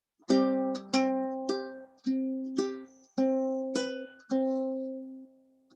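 Single notes plucked on an acoustic guitar, one after another at a steady, unhurried pace, each ringing out clearly and decaying before the next.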